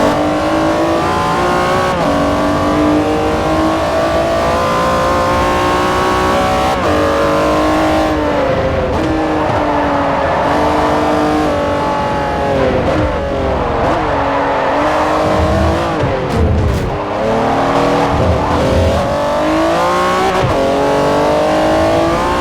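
An Acura NSX race car in Forza Motorsport 4 revs hard and continuously, its engine note climbing and dipping through gear changes, loud and close, with no talking over it.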